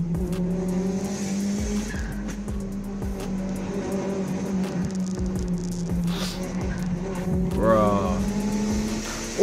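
Street race cars roar through the clip under a steady engine drone, with repeated sharp transients and a rising tire squeal near the end; voices are faintly present.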